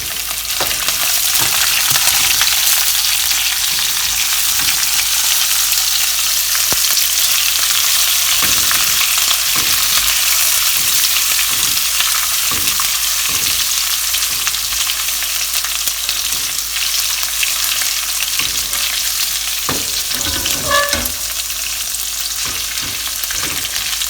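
Curry leaves, chopped ginger and green chilies toasting in hot oil in a pan for coconut rice, a steady loud hissing sizzle with occasional stirring scrapes and small pops, close and continuous with no talk.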